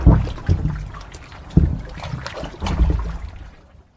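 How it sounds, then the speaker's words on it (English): Water trickles and splashes inside an underground storm drain, a steady close, hollow wash broken by several louder gurgling surges and slaps before fading at the end. "with water trickling through them or the bay kind of hitting them, there's a base that is created"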